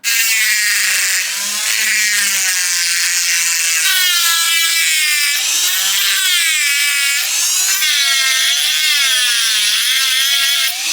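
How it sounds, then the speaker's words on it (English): A Dremel rotary tool cuts through an old 3D printer extruder gear with a continuous, loud high-pitched whine whose pitch wavers up and down as the load on the cutting wheel changes, with no talking. "the easiest way for me will be to cut it with a dremel"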